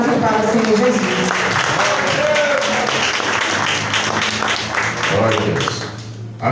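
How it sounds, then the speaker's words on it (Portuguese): Church congregation applauding and cheering for Jesus after a preacher's message, a dense broadband wash of clapping with mixed voices throughout, steady and full. "As palmas para o Senhor Jesus."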